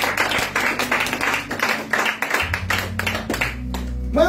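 A church congregation at a Friday evening worship service claps in a steady, brisk rhythm to acclaim Jesus; a low sustained organ or keyboard tone enters partway through.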